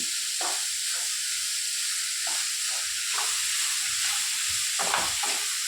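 Dragon fruit leaves stir-fry for thoran with small onion and curry leaves, giving a steady, close sizzle and hiss broken by repeated scraping strokes of stirring in the pan. No one talks.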